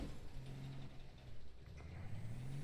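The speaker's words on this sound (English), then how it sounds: "You can hear my car is struggling." A strained car engine in the video game APB Reloaded drones and revs unevenly, a low steady rumble that rises and wavers throughout, with no talking.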